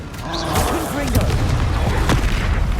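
A Confringo blasting spell detonates in the Hogwarts Legacy video game, a booming burst amid ongoing duel effects, with a voice talking over the combat.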